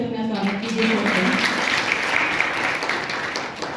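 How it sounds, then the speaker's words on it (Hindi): Loud applause from an audience of guests, children and teachers at a school financial literacy event in Khatauli, Muzaffarnagar, filling the whole moment, with a brief voice at the start. "अपने लिए जोरदार तालियों से अपना स्वागत कीजिए।"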